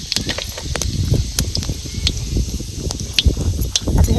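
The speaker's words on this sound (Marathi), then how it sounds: "तेल चांगलं आपलं गरम झालेलं आहे आता ह्याच्यात टाकते थोडंसं जिरं" Cumin seeds sizzle in hot oil in a pan, a steady crackling hiss dotted with sharp pops and ticks, close and fairly loud with no talking.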